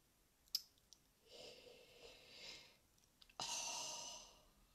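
A person yawns close by with a long, breathy exhale, then after a few soft clicks gives a second, louder drawn-out yawn; quiet and intimate, with no talking.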